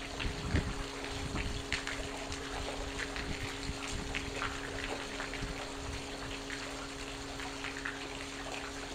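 Water trickles steadily in a fountain beside a church in Legnica, Poland, a soft continuous splashing with a faint low hum in the background.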